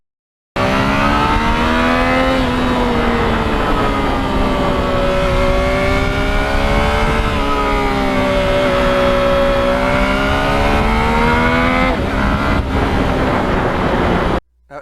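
A Yamaha MT-09 motorcycle engine roars loud and close as it pulls through the gears with a quick shifter, its pitch climbing and dropping in smooth, rapid steps across a sustained run before cutting off abruptly.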